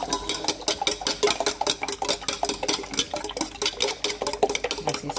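Eggs for a Spanish tortilla are beaten briskly in a bowl with a utensil, producing a fast, regular clatter of sharp strokes against the side, close and continuous, without speech.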